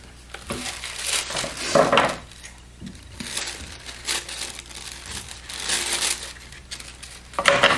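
Paper being crumpled and handled for a sewing project, close crinkling and rustling in repeated bursts with short pauses, no voices over it.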